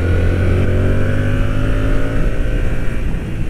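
A Yamaha MT-07 large motorcycle climbs uphill under steady throttle, its twin-cylinder engine giving a close, loud, continuous droning hum with slight rises in pitch, no voices over it.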